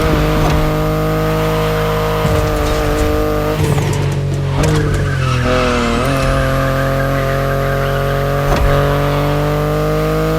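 A BMW i8 in The Crew Motorfest, engine droning loud and steady up close while tires squeal and skid in a couple of brief bursts.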